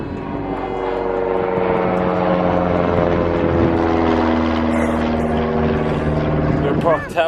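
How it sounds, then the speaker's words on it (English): Large military cargo plane landing near a beach parking spot, a loud steady propeller-engine drone with layered tonal harmonics holding throughout, close and dominant, with a brief rattle near the end. "there's just a big military cargo plane that's just landed here"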